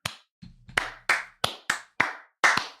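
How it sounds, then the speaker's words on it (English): A single person gives a slow clap, about seven sharp, close hand claps spaced at a deliberate, even pace, with a faint tap or two at the start and no talking. "I'm just going to give him a slow clap right here."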